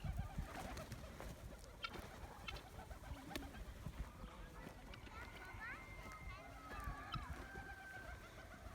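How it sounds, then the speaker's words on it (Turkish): Domestic pigeons coo softly and repeatedly amid a busy flock, with a person and someone talking nearby over a noisy background. "Güvercinlerime saldırıyorlar."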